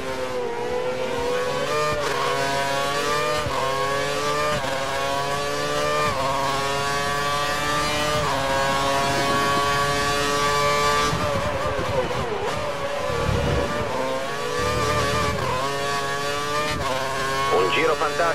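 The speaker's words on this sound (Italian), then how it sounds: "Sta provando a distanziarsi, ha impostato il motore sulla massima potenza." A Formula 1 car engine screams at full power in F1 2013 at the New Delhi Indian Grand Prix. The loud, continuous, high-pitched whine rises and falls with gear changes, with faint voices underneath.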